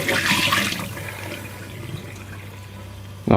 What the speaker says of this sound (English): Thought it would be interesting to just sieve it, just to see if anything gets caught up.